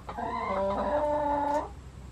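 A single drawn-out clucking call from a chicken at a roost being rebuilt, close and fairly clear over a quiet background, lasting under two seconds.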